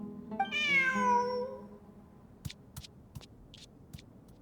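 A video game cat in Genshin Impact lets out one drawn-out meow, clear and close, followed by several short clicks and soft chimes against a quiet background.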